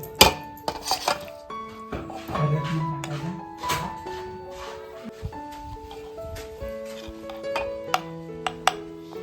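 A spoon clinking and scraping against small glass jars while homemade karvanda pickle is filled into them, a string of sharp irregular taps and rings close by, with faint talk at moments.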